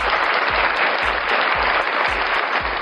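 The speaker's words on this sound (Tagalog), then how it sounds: "Bigyan natin ng palakpak yan." Audience applause at a Filipino talk show, a steady dense wash of many hands clapping throughout, with no talk over it.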